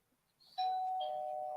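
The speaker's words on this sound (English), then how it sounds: "So if you hit the doorbell," A smart video doorbell at a homestead is pressed, sounding a loud, sustained electronic chime tone that rings out alone and holds steadily after a short lead-in.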